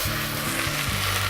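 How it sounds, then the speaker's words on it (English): Potatoes frying and browning in a pan for a mussel and sweetcorn chowder, giving a steady close sizzle with a low hum underneath, heard alone without talk. "So we're just going to let that cook down and brown away."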